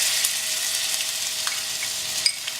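Garlic ginger paste sizzles in a hot pan for a spicy chicken curry, a steady bright crackle with a few sharper pops and stirring scrapes, close up and continuous.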